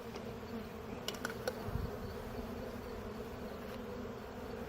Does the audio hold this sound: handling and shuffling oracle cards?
no